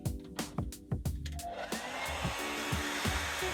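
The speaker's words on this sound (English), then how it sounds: "Then I hit it with the blow dryer on cold." Handheld blow dryer running on its cold setting, a steady broadband airflow whoosh that follows a series of short tapping knocks, held close and fairly loud with no talk.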